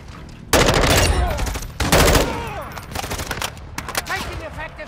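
Bursts of video game gunfire in a military shooter, loud and close, with heavy sustained volleys at the start and around two seconds, then scattered shots and radio-style chatter under the firing.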